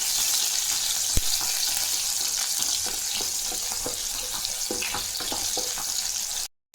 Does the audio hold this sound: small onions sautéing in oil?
yes